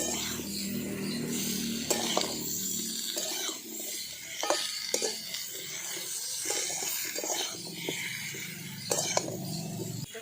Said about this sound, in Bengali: আমগুলো এই মশলার সঙ্গে খুব ভালো করে আমি একটু কষিয়ে নেব